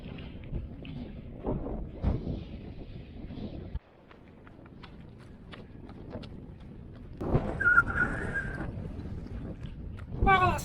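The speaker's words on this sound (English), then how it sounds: "Wow, that's a bit windy." Gusty wind buffets the microphone on an exposed mountain run, rumbling in uneven bursts with a brief lull midway, while a runner speaks over it.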